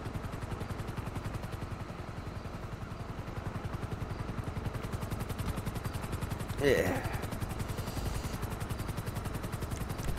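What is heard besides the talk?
helicopter flying overhead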